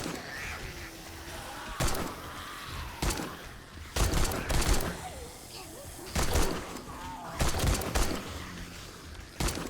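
Bursts of rapid gunfire from a video game shooter come in irregular volleys, loud and sharp, with quieter game ambience and scattered caw-like effects between the bursts.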